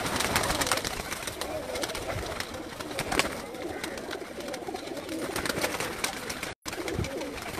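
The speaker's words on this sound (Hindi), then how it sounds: "उन्होंने तो प्रवासी कबूतर दिखा रहे हैं जी।" Pigeons coo amid a dense, noisy outdoor background, with a constant wash of flapping and rustling and a brief dropout near the end.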